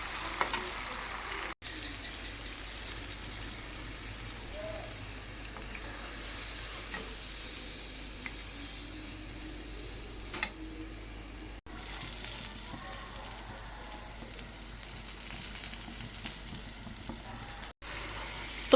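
Chicken and potato curry cooking in a pan after water has been added, giving a soft, steady simmering sizzle with a few brief bubbling pops and a louder stretch near the end.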